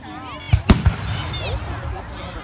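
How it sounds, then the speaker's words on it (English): Fireworks bursting at an outdoor firework show, three sharp booming blasts in quick succession near the middle, with a voice audible in the background. "the fireworks just started"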